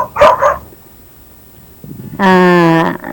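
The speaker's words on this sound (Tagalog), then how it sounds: "May aso kasi dito sa pagawaan ko kailangan ng aso." A noisy dog at a workshop gives two quick, loud, close barks, then after a pause lets out a longer, drawn-out tonal whine or howl.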